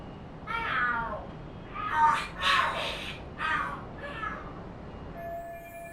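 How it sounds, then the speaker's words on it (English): Cats in Lost Judgment fight and scream in several loud, drawn-out yowling bursts close by, rising and falling over about five seconds, with faint background noise from the game. "Are there cats fighting?"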